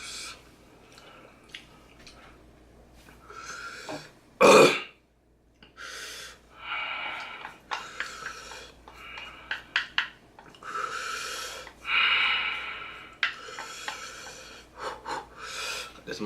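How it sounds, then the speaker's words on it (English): A person breathing heavily after eating spicy noodles during a food-tasting session, with ragged huffs, sniffs and gasping inhales, one sharp loud gasp partway through, close to the microphone. "I'm breathing so hard right now."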